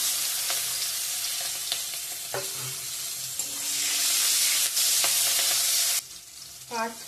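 Bay leaf and onion hit hot tempering oil for a bottle gourd curry, a loud, steady close sizzle with occasional stirring scrapes, then the hiss abruptly fades to a quieter level with a few clinks.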